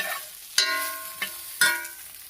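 A spatula stirs turmeric and asafoetida in a hot pan with aubergine for a yogurt-brinjal curry, giving a close, steady sizzle broken by three sharp metallic scrapes and clinks.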